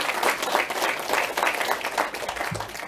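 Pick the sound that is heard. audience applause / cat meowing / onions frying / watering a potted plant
audience applause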